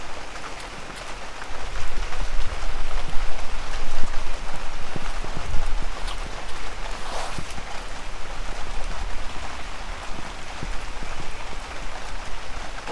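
Steady rain falls at a carp fishing lake at Greenfield Valley Fishing Resort in Hua Hin, Thailand, a close, dense patter on surfaces and water that keeps going without a break, with no voices.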